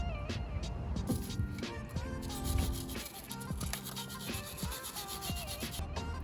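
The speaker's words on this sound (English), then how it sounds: "Now's a great opportunity just to get the wire brush in there, give it a real good clean up." A wire brush scrubbing a brake caliper on a Renault Clio 3 during a front brake pad change, rapid rhythmic rasping strokes close up and fairly loud, continuous with brief pauses between passes.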